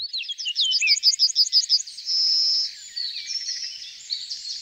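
Yellowhammer song: a quick run of repeated high chirps followed by a long, drawn-out wheezy note, then softer chattering, close and clear with no voices.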